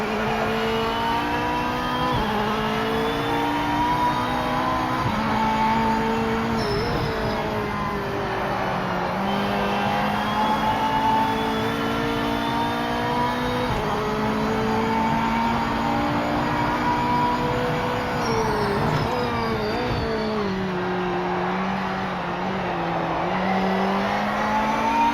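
Corvette race car in the Project Motor Racing game, engine droning loud and continuous with repeated rises and falls in pitch as it shifts gears, plus occasional tyre squeal, for the whole stretch without talk.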